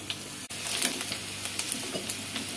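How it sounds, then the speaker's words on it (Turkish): Chopped peppers frying in oil in a pan, a crackling, spitting sizzle with bright pops and stirring scrapes throughout, close and moderately loud, no voices. "Doğradığımız biberleri. Biraz sıvı yağ döktük ve tavamıza döküyoruz."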